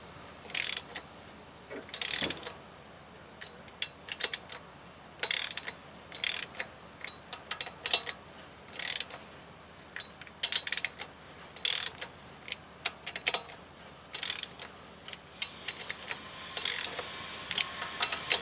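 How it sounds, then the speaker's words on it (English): A ratchet tool drawing the flywheel onto a 2007 Toyota Tacoma 2.7 engine with a five-speed manual gearbox during clutch work, heard as short bursts of sharp clicking repeated at regular intervals against a quiet workshop background. "what I'm doing now is pulling the flywheel on more than anything else"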